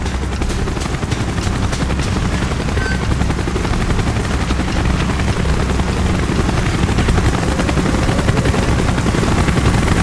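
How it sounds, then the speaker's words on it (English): Helicopter from the Call of Duty: Black Ops video game flying in, a loud, steady rotor roar with rapid chopping pulses that fills the whole clip, with faint gunfire-like crackle mixed in and no speech. "Chopper's inbound."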